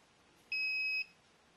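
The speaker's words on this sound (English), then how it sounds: "you'll hear a beep if it was successful" A fingerprint keyless keypad door lock gives a single clean electronic confirmation beep about half a second long, clear against a quiet background with no talking.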